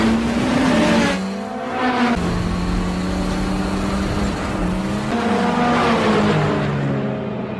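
A race car engine revs loudly and steadily in a film scene, with the pitch rising and falling between gear-like shifts and tire squeals cutting in over the continuous roar, with no talking.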